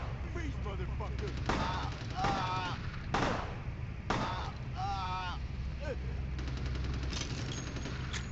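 Several loud gunshots ring out in Vampire the Masquerade Bloodlines, spaced about a second apart, over a steady low game hum. Brief chirping, warbling effects sit between the shots.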